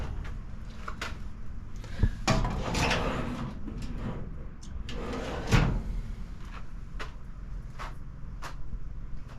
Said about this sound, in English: push them in, they're easy close drawers where they do it automatically